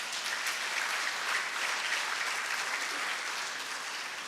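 Steady, dense audience applause at an economics conference session fills the room at moderate volume, holding evenly throughout without a break.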